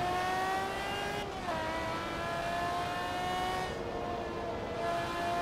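A Ferrari and a Lamborghini racing in Forza Motorsport 2, with high engine whines climbing and dropping through gear changes, steady and fairly loud, no talking.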